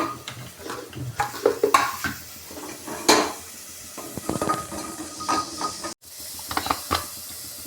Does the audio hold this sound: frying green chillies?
yes